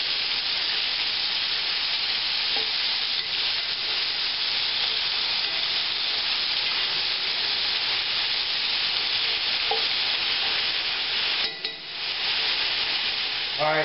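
Vegetables for smothered cabbage and pork chops fry in a hot pan with a steady loud sizzle, while scattered scraping and stirring sounds surface and a brief dip comes near the end.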